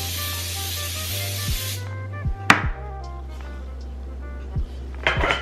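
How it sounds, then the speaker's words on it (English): Cooking spray hisses steadily from a can onto the bottom of a cake pan for about two seconds, followed by scattered clinks and taps of the pan on a kitchen counter. "spray the bottom of the pan."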